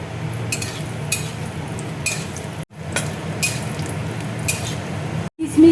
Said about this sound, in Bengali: এবার দেখো কিশমিশ আমি দিয়ে দিচ্ছি